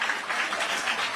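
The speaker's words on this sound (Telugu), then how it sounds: "గట్టిగా చప్పట్లు కొట్టి అభినందించండి." Audience applause at a public meeting with Chandrababu Naidu, a dense, steady wash of many hands clapping throughout, moderately loud with no break.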